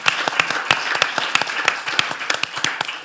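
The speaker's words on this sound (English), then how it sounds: "There are 2 groups of people that I'd like you to give a round of applause to." Conference audience applauding at a Dragons' Den style pitching session, a dense patter of many hands clapping steadily for about three seconds with sharp individual claps standing out, no talking.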